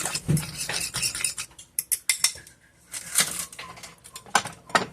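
Tuna bun filling gets mixed in a bowl, quick irregular clinks and scrapes of a utensil against the bowl in close, busy bursts with short pauses.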